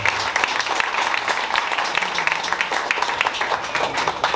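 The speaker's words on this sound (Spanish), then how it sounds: "Le damos un aplauso a la Santa Cruz" Congregation applauding the Holy Cross at a patronal feast Mass in a church, a loud, sustained burst of dense clapping from a crowd, close and continuous throughout.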